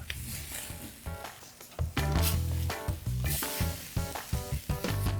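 Frozen Walmart hamburger patties frying in juices, giving a close, steady sizzle with crackles and clattering bumps from the pan, and no talking.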